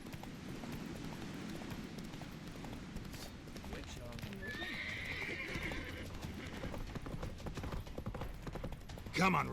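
Geralt's horse Roach galloping in The Witcher 3, with rapid rhythmic hoofbeats throughout and a neigh near the end, under intermittent speech.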